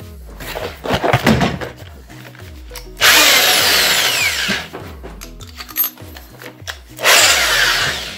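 A power drill with a 6.5 mm bit bores a hole in two loud bursts of whirring and grinding. Quieter handling clatter and rhythmic low thumps come between the bursts.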